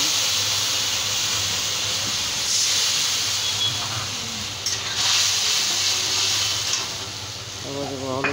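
Dried red chilies and panch phoron spices sizzle and hiss loudly in hot oil in a home kitchen, a steady close frying crackle throughout with brief clinks near the end.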